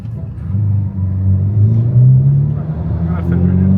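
A tuned all-wheel-drive car's engine rumbles and rises as the throttle is feathered on a city street at night, a low droning rev close inside the cabin, with people talking over it.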